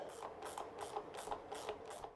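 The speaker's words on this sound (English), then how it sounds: "Now you can go ahead and finish getting those rim lock nuts tightened down" A ratchet tightens the rim lock nuts on a Honda CRF250F trail bike wheel, clicking in quick, even bursts of about six strokes, faint and close.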